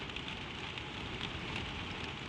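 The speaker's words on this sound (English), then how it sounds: "The rain falls." Steady rain patters on a surface, a soft, even hiss with faint drops, continuous and unchanging, with no voices.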